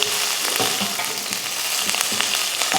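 Onions, mustard seeds, urad dal, curry leaves and green chilli sauté in hot oil in a pan, giving a steady, loud, close sizzle with small stirring scrapes throughout.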